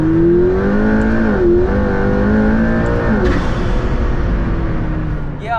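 A McLaren P1 hypercar's engine revs and accelerates close up, the pitch climbing, dipping briefly and climbing again as gears shift, ending in a loud sustained roar.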